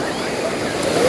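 Sea water sloshing and splashing around a wader in the surf on a Konkan coast beach, a steady broadband wash that is close and loud throughout and swells slightly toward the end, with no clear voices.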